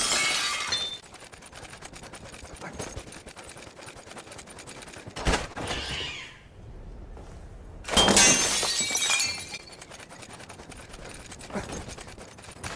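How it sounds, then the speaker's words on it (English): Glass lanterns shatter in the video game Battlefield 1: three separate crashing bursts of breaking glass, each followed by tinkling debris, spaced between quieter stretches of in-game background noise. "You're going to need to smash all of them."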